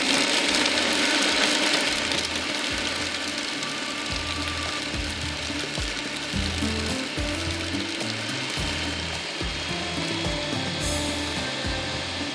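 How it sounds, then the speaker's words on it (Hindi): Spices, garlic and fried onion for Peshawari rosh being ground in a mixer grinder, a loud, steady mechanical whirring and rattling that runs continuously without pause. "बस इसी को अच्छी तरह से पीस लेंगे।"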